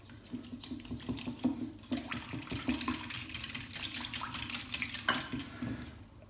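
A whisk or spoon stirring cream and two egg yolks together in a bowl for a blanquette de veau, giving a quick run of light rhythmic clinks and scrapes against the bowl, faint and close, with no talk.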